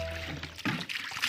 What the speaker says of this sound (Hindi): अभी हम लोग पानी भरवा रहे हैं